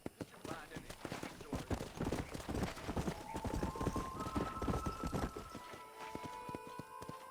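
Horse hooves gallop in a rapid, steady clip-clop in Red Dead Redemption 2, loud and close throughout, with sustained tones rising in the background partway through.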